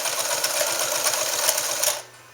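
A Morse straight stitch sewing machine runs at a long stitch length through two layers of bonded leather, a steady fast mechanical whir and needle clatter close by that stops abruptly near the end.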